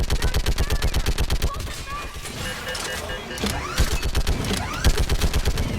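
Video game gunfire from a rapid-firing weapon during a firefight, loud bursts of evenly spaced shots with a short pause in the middle before the rapid fire resumes; a player talks over it.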